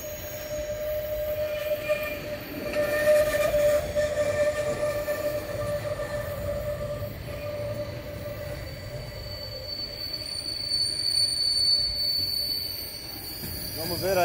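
A VLI freight train of HFE wagons rolls past on the Serra do Mar line, a loud continuous rumble with squealing wheel tones that rise and fade. A voice talks over it.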